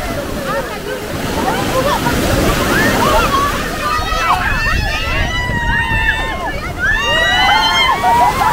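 Sea waves wash and slosh loudly and continuously at Alubihod Beach in Guimaras during monsoon weather, close to the listener, while a person speaks over the surf.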